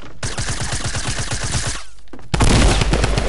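Rapid automatic gunfire from an overpowered gun in a video game, a fast even stream of close, loud shots, a brief pause, then a denser, louder burst of fire.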